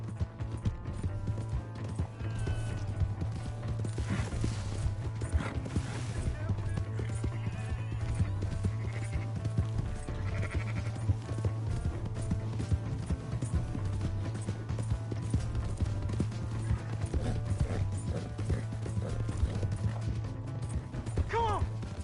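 Horse hooves gallop in a fast, steady clip-clop rhythm in the Red Dead Redemption 2 video game, with a neigh, game music and voices talking over the running horse.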